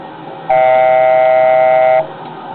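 Aircraft cockpit altitude alert tone sounding while climbing toward 3,000 feet, a single loud steady beep lasting about a second and a half, close and alone over a low cabin hum.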